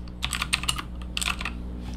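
Rapid typing on a Rapoo V500 Pro full-size wired mechanical keyboard, with two close, loud bursts of clacking keystrokes separated by a short pause and no talking.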